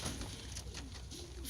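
Pigeons coo softly in a loft, low murmuring calls rising and falling faintly beneath a steady background hiss.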